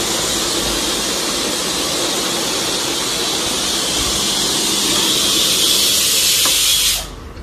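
A pressure cooker on the stove vents a loud, steady hiss of steam while vegetable dal cooks, the rushing sound holding for about seven seconds before cutting off abruptly.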